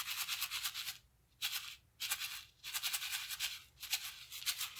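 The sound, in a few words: shaker card being shaken and rattling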